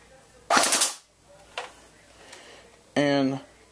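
An AGM M14 airsoft rifle firing 0.2 g BBs gives a sharp, crisp snap, then a fainter one, and someone speaks briefly near the end.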